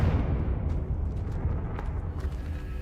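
Confringo fire blast spell from Hogwarts Legacy, heard as a loud, dense, sustained rumbling roar that holds steady for the whole stretch, with a few faint crackles on top.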